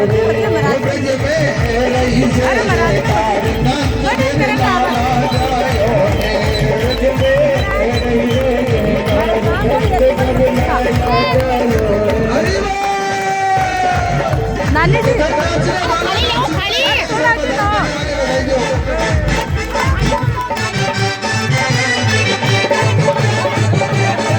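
A dense crowd gathered at a Krishna birth celebration, a steady loud babble of many voices with chatter, singing and music-like tones running continuously throughout, close and constant.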